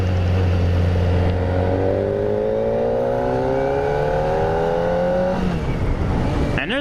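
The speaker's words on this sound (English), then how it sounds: "there's a stock exhaust on this thing. I mean, this thing's brand new. It sounds absolutely incredible." A brand-new 2023 Kawasaki ZX-4RR with its stock exhaust revs hard, pitch climbing steadily through the gears in one long loud wail before dropping off near the end, close and unbroken.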